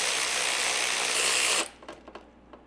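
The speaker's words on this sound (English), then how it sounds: "if you can get yourself an electric ratchet" An electric ratchet spins loud and steady for about a second and a half while backing bolts out of a 1968 Mustang, then stops, followed by a few faint clicks and knocks of handling.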